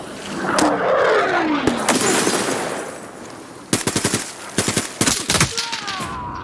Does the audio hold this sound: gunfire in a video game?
yes